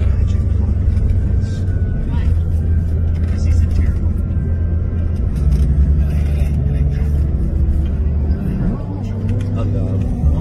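Road traffic in the Philippines, a continuous loud rumble of engines and passing vehicles with a low motor drone throughout, with people talking under it.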